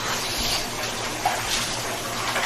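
Water pouring into an ice bath tub: a steady, close splashing gush that runs continuously under a faint room hum.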